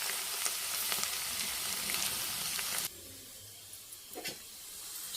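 Onions and chillies sizzle steadily in a hot pan while okra fry is being made, a dense crackling hiss that drops to a quieter, softer fry partway through, with a few stirring clicks near the end.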